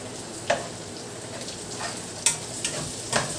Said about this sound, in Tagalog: Yan, nagdagdag tayo ng oil kasi para mag-fry natin yung fishball and kikiam.